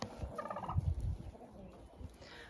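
Chickens let out of an enclosure onto grass cluck and squawk softly at a distance, a low jumble of fowl calls with faint background noise.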